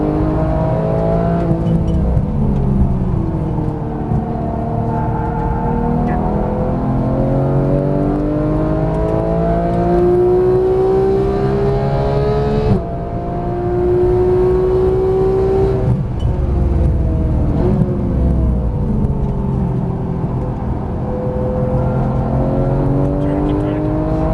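A Porsche GT3 race car engine revving hard on a Las Vegas track, loud and close, rising through gears with brief lifts between shifts while a driving instructor talks over it.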